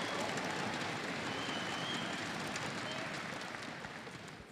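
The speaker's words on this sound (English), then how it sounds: "Give them a big round of applause." A large crowd at a political election rally applauds and cheers in a broad, dense wash of sound that holds steady and then slowly tapers off.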